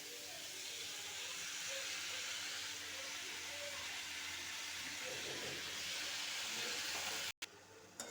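Fenugreek leaves frying in a pan with onion and chillies, a steady close sizzle and hiss that runs unbroken, with a short cut near the end.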